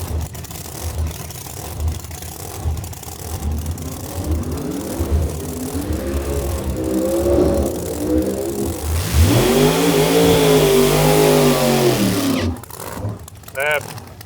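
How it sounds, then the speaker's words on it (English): A supercharged big-block Chevy in a 1969 Camaro drag car revs hard at a race track, rising and falling in loud, rough sweeps under a commentator's voice, then fading as the track quiets. "That blown big block Chevy, 69 Camaro."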